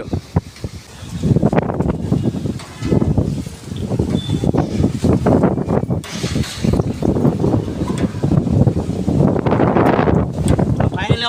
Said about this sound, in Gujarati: આ પવન તમે જોઈ શકો છો